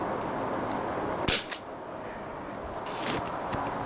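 A KWC M11 air pistol fitted with a softer valve spring fires a 7.4 grain lead BB: one sharp, close pop followed by a smaller click, then a fainter second report against steady background hiss.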